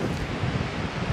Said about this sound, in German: da ist so ein Wind hier am Strand, du kannst die Kamera kaum festhalten.